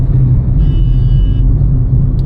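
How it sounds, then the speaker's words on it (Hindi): A car accelerating in second gear gives a loud, steady low engine drone and road rumble, heard close from inside the cabin with no break. "तो यहां पर अब मैं सेकंड गियर पे हूं, मैंने स्पीड को तेज किया"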